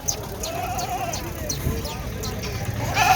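Bleating from a group of young goats at a goat farm in Dera Ghazi Khan, rising and falling in a steady series of calls under continuous nearby talk and general farmyard noise.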